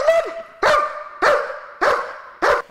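A German Shepherd working dog barks during restraint training to hold a suspect, five loud, close barks evenly spaced about every six-tenths of a second, with little else around them.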